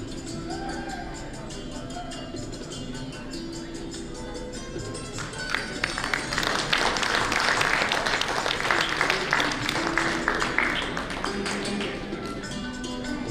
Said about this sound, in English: Let's give them a warm round of applause for Mr. Shri Pankaj Shah and all our esteemed panelists for their valuable contribution.